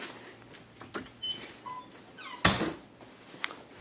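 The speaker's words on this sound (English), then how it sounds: "let me close this door" A door swung shut indoors, ending in a single sharp close thud after some faint creaks and rustling, with a small whimpering sound earlier.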